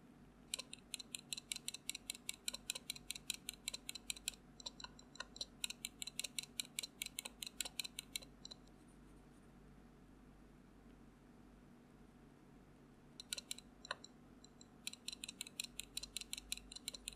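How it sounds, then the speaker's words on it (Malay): Key presses on a Duhoro VN96 mechanical keyboard with rattling stabilizers under its large keys ring out as rapid bursts of sharp clicks, then fall silent for a few seconds before another run of typing. "keyboard yang ada rattling tadi adalah Duhoro VN96"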